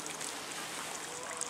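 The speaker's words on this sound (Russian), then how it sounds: "Вот он такой источник, текет водопад здесь. Звук очень красивый." Small waterfall in a park splashing and flowing in a steady, full hiss of running water, close by and continuous, with no talk over it.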